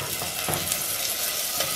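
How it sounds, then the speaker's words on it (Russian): White rice sizzles and crackles steadily in a hot pot over low heat while a spoon scrapes and stirs through it in a few soft strokes, close by. "И начинаю его обжаривать, так сказать, помешивать"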